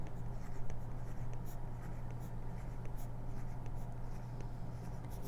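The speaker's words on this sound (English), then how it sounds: "In my numerator, I will have to write the number 2 8 times." Steady scratching of a pen or pencil writing numbers by hand on paper, close and continuous, with quick strokes repeating in a rhythmic pattern and no talking.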